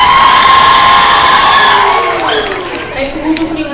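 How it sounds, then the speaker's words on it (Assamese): A college audience claps and cheers for visiting film artists, a loud, continuous roar of clapping with shouts and whoops filling the space throughout. "এটা ডাঙৰ হাত চাপৰি লাগে।"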